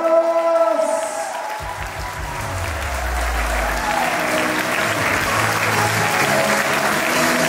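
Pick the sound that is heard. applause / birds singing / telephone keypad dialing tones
applause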